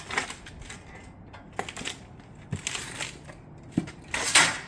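A metal cottage shingle is worked on a bender during a roof install, producing a series of sharp, close metallic clanks and scrapes at irregular intervals, ending in a louder rattling crunch.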